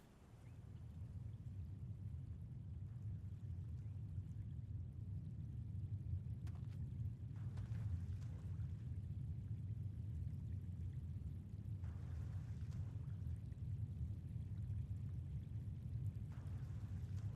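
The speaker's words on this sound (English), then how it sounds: "I can record the water, probably." Water pours and flows steadily in the video game Project Songbird, a continuous low rushing wash that stays at an even level throughout with no talk over it.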